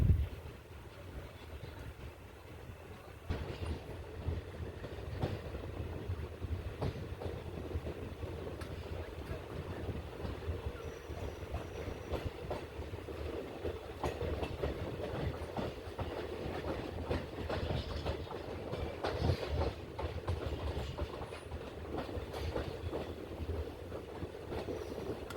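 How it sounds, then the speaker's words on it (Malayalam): A locomotive-hauled train eases slowly out of Punalur railway station on the Kollam–Chenkotta line, giving a continuous rolling rumble with rhythmic wheel clacks and faint wind noise over the whole stretch. "ലോക്കോ ഒക്കെ വെച്ചതിന് ശേഷം ട്രെയിൻ പുനലൂർ റെയിൽവേ സ്റ്റേഷനിൽ നിന്ന് എടുക്കുകയാണ്"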